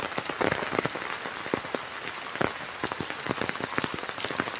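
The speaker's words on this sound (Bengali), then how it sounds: "চারদিকে বৃষ্টি বৃষ্টি আর বৃষ্টি।" Heavy monsoon rain pours down in a dense, continuous hiss, with sharper drops spattering on a nearby surface throughout, loud and close with no voices.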